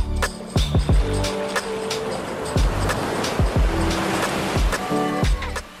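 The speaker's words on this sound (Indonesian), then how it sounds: "Puas menikmati deburan ombak" Ocean waves break and wash up on a shallow beach at Toronipa, giving a loud, continuous surf roar broken by sharp thumps and clattering bursts, with occasional tonal sweeps layered over the rushing water.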